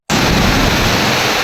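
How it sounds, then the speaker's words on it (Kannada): Water gushing down the Hukkuda waterfall, a loud, steady, close roar of broadband rushing that starts abruptly and holds without a break. "ನೀರು ನೋಡಿ ದುಮ್ತಾ ಇರೋದಂಗೆ"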